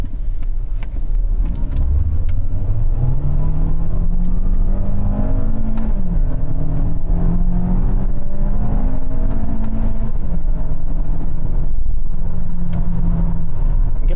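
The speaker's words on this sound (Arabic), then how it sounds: "خلينا كده نجرب تجربه تسارع من الثبات ونشوف اداء العربيه وده الفتيس عامل ازاي" A Volkswagen Passat CC with a 160-horsepower engine pulls away hard from a standstill, its loud, close engine note climbing steadily, dipping briefly at gear changes and rising again under a constant roar of road and wind.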